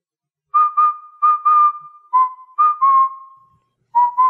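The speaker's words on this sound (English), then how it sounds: "it's silent aside from Luigi's whistling and footsteps" Luigi whistles a cheerful tune in the video game Luigi's Mansion, short two-note bursts and held notes repeating clearly and alone, with brief pauses between phrases.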